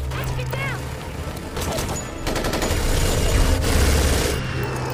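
Gunfire in a movie shootout involving Umbrella forces, with bursts of rapid shots and crashing impacts over a dense, rumbling action mix, with no clear talking.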